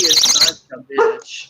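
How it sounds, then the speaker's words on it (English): A dog gives a few short barks just after a voice speaks, with an alarm-like electronic tone nearby, heard close and loud in a home during a live stream. "The dog's barking."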